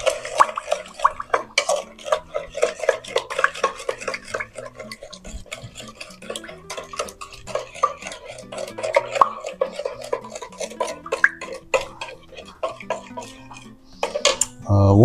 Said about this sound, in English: I'm gonna give those a stir